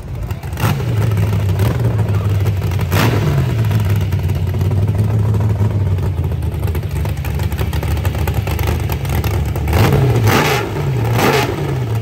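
A mid-engine Hemi hot rod with big brakes and carbon-fibre parts, at a Hot Rod Power Tour event, rumbles deeply at close range, its pitch climbing and falling with a few throttle blips over a steady low idle.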